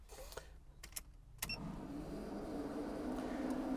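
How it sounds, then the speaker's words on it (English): Engine cooling fans on a Local Motors Rally Fighter switch on after a few clicks and knocks inside the car, then whir as a steady, rising hum that continues to the end. "it's a little bit noisy when I turn on everything in the car just because the fans for the engine have turned on"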